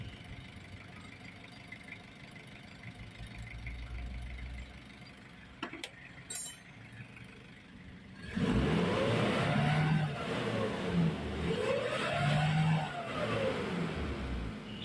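A Kia Bongo 3.0 diesel van engine idles quietly, then after a brief clatter it revs up loudly in two rising and falling surges, staying rough and throaty.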